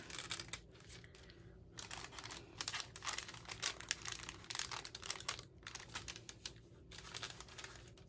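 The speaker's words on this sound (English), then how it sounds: "But I'm just going to touch the tape and see if I can pull this up." Heat-resistant tape is peeled up off a wooden surface in a series of close, crinkly, crackling pulls with brief pauses between, quiet and without speech.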